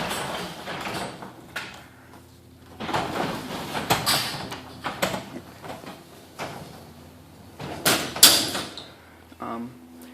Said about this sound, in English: So I'll just open the door by hand here and hook it up.